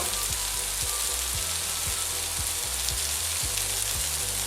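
Carrots, tomatoes and potatoes sweat gently in a cooking pot beside beef tripe, giving a steady, even sizzle that holds at the same level throughout with no talking.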